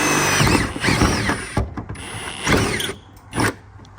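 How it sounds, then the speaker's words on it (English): A power drill with a larger bit bores through a car's metal core support near the radiator, giving loud grinding and whirring bursts that stop and restart several times, close up with no talk. "So let's step up the drill bit to the actual size."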